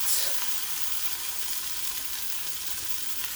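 Cheese bread sizzles steadily in a hot pan right after being flipped, a close, even crackle of frying that runs throughout without pause.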